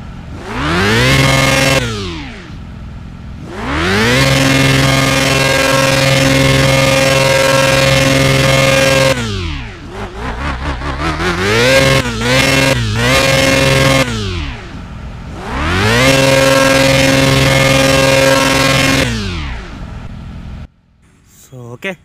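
A Ducati Monster 1200S motorcycle engine in the mobile game Bus Simulator Indonesia is revved hard in long loud sustained pulls, with short choppy blips in between, close and prominent.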